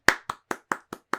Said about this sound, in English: You even get a round of applause from me and everyone at home.